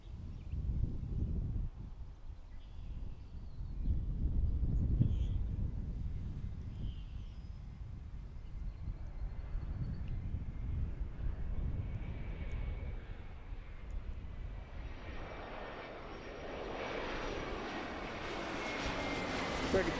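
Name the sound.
arriving airliner at Philadelphia International Airport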